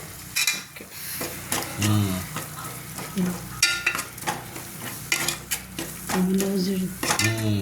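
Chicken curry cooking in oil in a home kitchen pan, with stirring scrapes and clinks of a utensil against the pot over a steady low sizzle, close and fairly loud.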